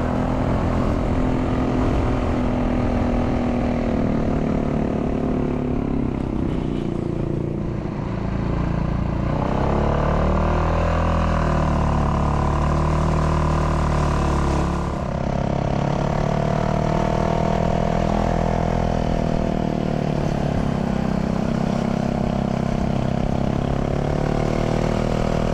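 A FORT250 motorcycle engine drones steadily and loudly as the bike climbs a steep, winding road toward Kintamani in Bali, with the pitch shifting slightly as it works through the bends and no voices.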